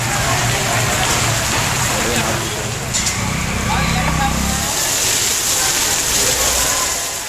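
Steady heavy rain falls in southern Tamil Nadu, a dense continuous hiss of drops that runs under a voice speaking throughout.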